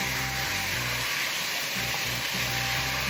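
Sugared pork stir-fried in a frying pan for Korean jeyuk bokkeum, with a steady loud sizzle and faint scraping as it is mixed, heard alone.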